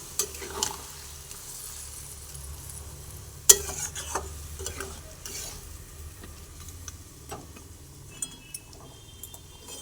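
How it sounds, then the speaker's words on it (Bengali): Mughlai chicken being stirred in a pan with a little water, giving soft, quiet scraping and a faint simmer, plus one sharp utensil clink near the middle and a few lighter taps. "একটু ভালোভাবে নাড়াচাড়া করে নিই"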